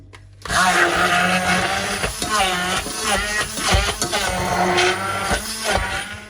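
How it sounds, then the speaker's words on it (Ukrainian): A blender whirs loudly and continuously up close, its motor pitch wavering as strawberries churn into a purée. "тепер ми блендером збиваємо в однорідну консистенцію"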